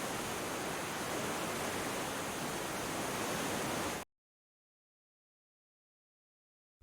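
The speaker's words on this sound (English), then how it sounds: "This is Git Waterfall, where adventure meets natural beauty." Steady roar of Git Git Waterfall in Bali, a dense, even rush of falling water heard close and loud for about four seconds before cutting to silence.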